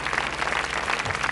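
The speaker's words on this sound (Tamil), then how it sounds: "நல்ல கைத்தட்டல்." Studio audience applause on a television game show, a brief, dense burst of many hands clapping together, close and even throughout.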